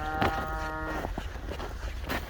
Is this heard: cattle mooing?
yes